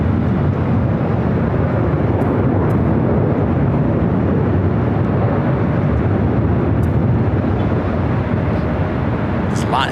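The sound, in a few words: airplane taking off at LAX airport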